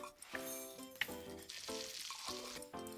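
Chicken and onions fry in oil in a pan, giving a soft, steady sizzle with small bursts of crackle and a few louder spits, heard up close and fairly quiet.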